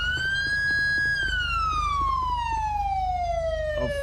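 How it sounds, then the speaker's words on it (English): Inside a GTA roleplay video game, a police car siren wails loud and close. Its one sustained tone starts high, then glides steadily downward over a rumbling engine, with no voices heard. "Your siren's on."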